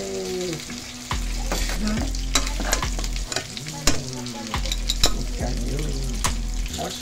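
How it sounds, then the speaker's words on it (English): Spaghetti sizzles in a frying pan with oil and tomato, a steady crackling fry broken by repeated metallic scrapes and clinks of a utensil stirring against the pan, close and moderately loud. "So now she puts spaghetti with frying!"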